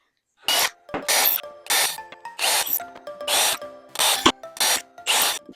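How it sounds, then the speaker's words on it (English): A drill pre-drills holes into poplar wood in about eight short bursts, each a second or less, spaced by brief pauses, close and fairly loud. "I'm going to actually pre-drill some holes into here so it won't split"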